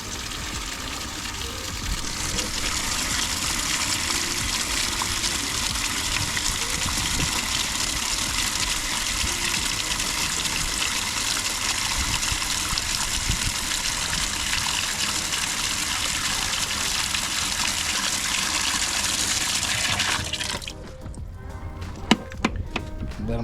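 Running water gushes steadily over crawfish being washed in a tub for a Louisiana crawfish boil, a loud continuous rush lasting about twenty seconds before cutting off, followed by a few faint clinks.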